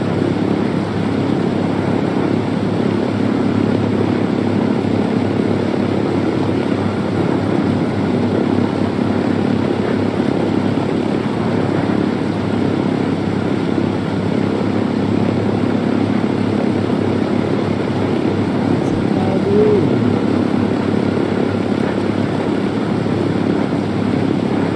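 Airplane engine in a sniper-themed video game, a steady, loud, continuous droning roar without change, with no talk.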